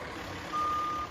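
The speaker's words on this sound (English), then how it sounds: "First off, the trucks drive out." A public works truck drives out to flood an outdoor ice rink in Champlin. It sounds one clear, steady reversing beep over a low engine rumble.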